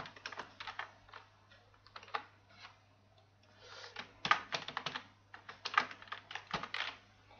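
Typing on a computer keyboard while entering text into a Java password field, a quiet series of irregular key clicks in bursts with brief pauses, no voices.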